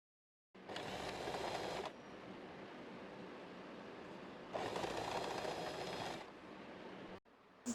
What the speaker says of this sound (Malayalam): ഇനി നമുക്ക് താഴ്ഭാഗം മടക്കി തയ്ക്കാം.